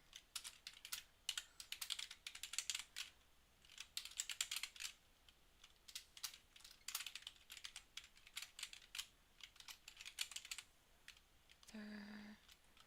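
Someone types on a computer keyboard while working on a Unity user interface: irregular bursts of close, crisp key clicks with short pauses, followed at the end by a brief tonal beep.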